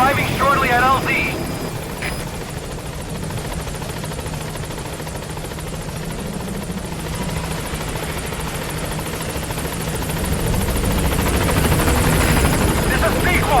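The Pequod helicopter in Metal Gear Solid V flies in toward the landing zone, its rotor thumping loud and steady throughout. The roar swells near the end, with radio-style voices over it.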